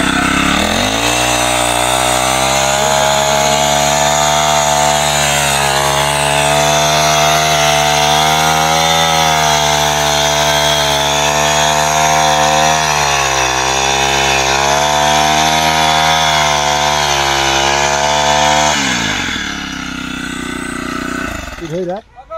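A multi-purpose motorized weeding machine runs with a loud, steady buzzing engine drone close by, holding a constant pitch with slight wavering before cutting off near the end.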